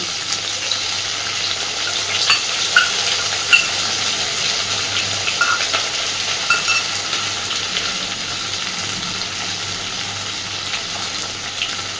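A paste of poppy seeds, mustard and garlic fries in a pan for rohu fish curry, a steady moderate sizzle with a few soft clinks and bubbling bursts, and no speech.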